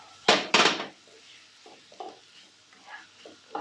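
Chilies, onion and tomatoes stirred into egg in a hot pan for fried rice: two loud scraping strokes up front, then quieter intermittent scrapes and light sizzling, close up with no talk.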